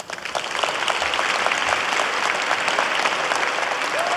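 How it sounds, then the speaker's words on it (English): Applause at a school board meeting, building quickly into steady, dense clapping from a sizable audience that continues throughout, with a faint voice at the very end. "Please give them a round of applause."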